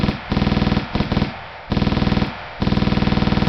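Rapid weapon-fire sound effect in a GameMaker Asteroids game, loud bursts of repeated machine-gun-like shots in quick even rhythm, stopping and restarting several times.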